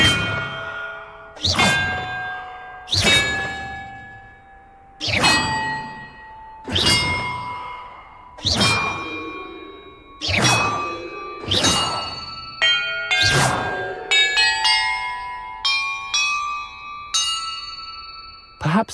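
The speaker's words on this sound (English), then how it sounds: "Perhaps the map contains clues about the order I'm supposed to ring the bells in." Bells in the video game Hogwarts Legacy are struck one after another, each a loud clanging ding with a long ringing decay, then quicker rings at the end, with the player talking faintly at times.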